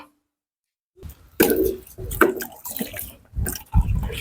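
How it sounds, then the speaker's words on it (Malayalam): After a moment of silence, rice grains pour and splash into water in a pot with soft plops and rustling, close and moderately loud. "വെള്ളം നിറച്ചിട്ടുണ്ട്. നമുക്ക് അരിയിട്ട് കൊടുക്കാം."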